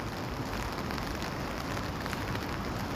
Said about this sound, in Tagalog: mahina lang ang ulan dito sa Kuwait